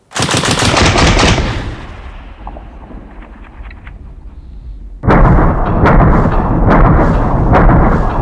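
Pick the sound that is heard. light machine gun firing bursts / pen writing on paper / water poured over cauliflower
light machine gun firing bursts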